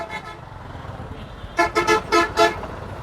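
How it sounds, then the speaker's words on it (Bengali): Car horns honk in a traffic jam, several sharp blasts in quick succession after a quieter stretch of road noise and idling traffic. "মানুষ যাইতে পারতেছে না, ওরা হর্ন বাজায়, মানে শব্দ দূষণ।"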